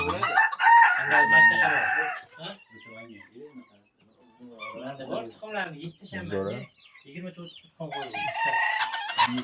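Serama bantam roosters at a decorative dwarf chicken farm crow loudly and close at the start and end, with clucking between, while people talk over much of it.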